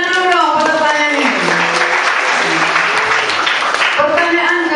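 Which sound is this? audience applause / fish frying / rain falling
audience applause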